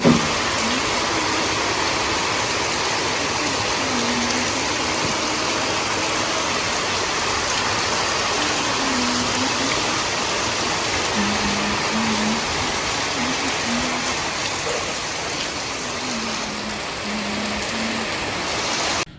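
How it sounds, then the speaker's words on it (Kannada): Rain falls steadily at a village home, a continuous, even hiss that holds at the same level for the whole stretch, with a faint low hum running underneath. "ಅಷ್ಟು ಕರೆಕ್ಟಾಗಿ ಮಳೆ ಸ್ಟಾರ್ಟ್ ಆಯಿತು."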